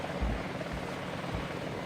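A Soviet Mi-series helicopter rumbles in the Battlefield Vietnam video game, its steady rotor thump and engine drone loud and close throughout, with low rhythmic beats pulsing under a broad roar.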